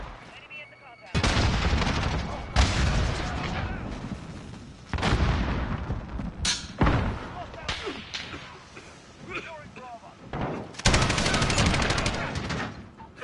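Bursts of rapid gunfire from an online multiplayer shooter game, loud and close, coming in several long volleys separated by brief gaps, with explosive booms mixed in and a player's voice talking between shots.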